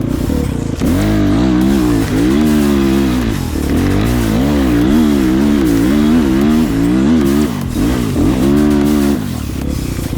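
A tuned GNS 300 enduro motorcycle accelerates hard in second gear, its loud, close engine note rising and falling in pitch through repeated revving surges across the whole stretch, with no talking.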